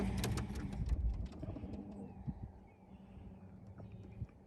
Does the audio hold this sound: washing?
no